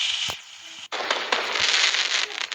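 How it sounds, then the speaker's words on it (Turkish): Exploding fireworks effects from the Piano Kids video game: a sharp bang followed by a dense, sustained fizzing crackle, with a brief pop and a sudden cut before the crackling resumes, close and loud. "patlamış havai fişek yapalım merak ettim"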